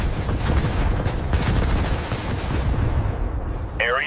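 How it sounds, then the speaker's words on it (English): A lightweight rotary cannon descended from the Vulcan fires in dense, rapid bursts, a loud continuous roar of shots that briefly eases before resuming. "A lightweight descendant of the famous Vulcan cannon."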